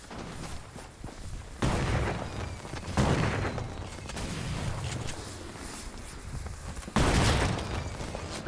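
Sniper fire and heavy gunfire in an online shooter match, with loud sharp reports and booming bursts around 1.6, 3 and 7 seconds over a constant rumble of distant battle.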